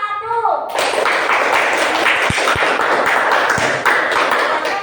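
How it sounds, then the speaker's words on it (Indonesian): A classroom of students breaks into dense, sustained applause for the first group, a steady wash of clapping that starts suddenly and continues throughout, with voices mixed into the noise. "Silakan tepuk tangan untuk kelompok 1."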